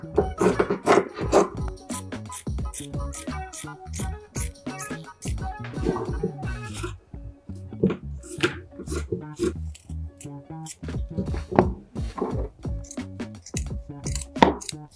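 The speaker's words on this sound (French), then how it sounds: "On va pouvoir maintenant couper notre morceau." A fabric patch for mending a bedsheet being cut: a fast, uneven series of close, crisp snips and rustles that continues steadily throughout.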